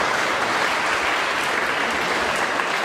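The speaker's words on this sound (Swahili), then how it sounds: "Tunaweza kushangilia makofi kabisa" Steady, dense applause from a church congregation at a gospel service in Butembo, filling the space evenly at full loudness throughout with no pauses and no voices rising above it.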